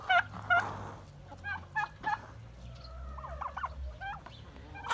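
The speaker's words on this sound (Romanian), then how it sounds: "Avem două femele negre, da? Vă cum puteți vedea, și un curcan, el este curcanul" Domestic turkey gobbling in a backyard pen with two black hens and young turkey poults, several loud, close gobbles and bubbly calls over a low rumbling background, with softer chirps and peeps from the birds in between.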